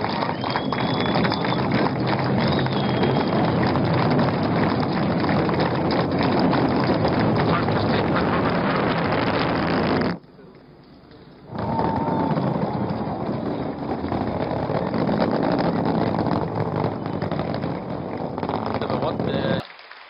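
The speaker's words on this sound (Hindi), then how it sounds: "दो S200 रॉकेट प्लस 5 सेकंड दोनों का प्रज्वलन हो गया है" Chandrayaan 2 launch vehicle with twin S200 boosters ignited gives a steady, loud, broadband roar, broken by a brief drop around the middle before the rumble returns; a commentator's voice runs over it.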